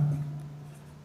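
Something writes on a board during a physics lesson in a brief, close scrape that fades within about a second.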